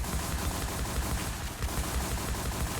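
Dense, continuous gunfire in a shooting video game, rapid bursts blending into a steady roar with no pauses, loud and close.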